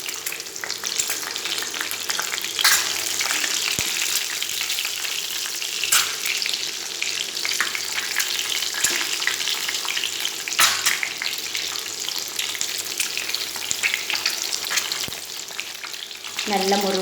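Halved boiled eggs fry in a pan of hot oil, giving a steady, dense crackling sizzle that holds evenly throughout at close range, with no voices.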